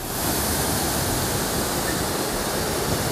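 A waterfall in Baguio, Philippines, splashes down into a canal as a loud, close, continuous rushing roar with no pauses and no voices.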